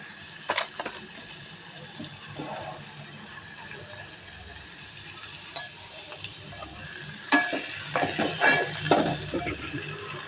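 Carrot sautés in oil over a low flame with a faint, soft hiss, while scattered utensil clinks and scrapes against the pan grow busier toward the end.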